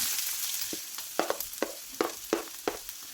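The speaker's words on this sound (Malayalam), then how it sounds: "എണ്ണ ചൂടായി വരുന്നുണ്ട് അതിലേക്ക് നമുക്ക് ഒരു ഉള്ളി ഒരു വലിയ സൈസ് ഉള്ളി കട്ട് ചെയ്തതാണ് അത് ഇട്ട് കൊടുക്കാം" Chopped large onion fries in hot oil with a bright hissing sizzle, punctuated by a rhythmic series of sharp scraping stirs about every third of a second, close up and without speech.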